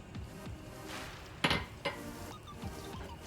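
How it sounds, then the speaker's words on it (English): A spatula works milk into mashed potatoes in a pot, giving soft scraping and stirring sounds with a sharper clink against the pan near the middle and a few lighter knocks, heard up close with no talking. "So I'm using my spatula here because it's easy."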